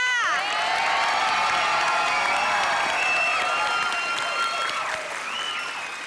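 A crowd applauds and cheers loudly, with high whoops and shouts riding over dense continuous clapping that eases slightly near the end.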